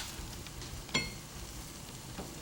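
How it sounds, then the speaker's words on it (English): Rice being stirred in a pot with juice, a soft continuous simmering sizzle with one brief clack of the spoon against the pot and a faint scrape later, quiet and close with no talking. "give it a quick stir"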